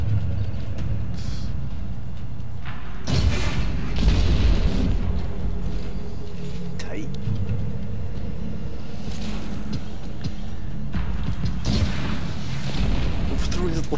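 Rocket launcher blasts in Destiny 2 hit as deep, rumbling booms over a steady bed of game noise. Heavy impacts land around the middle and again near the end.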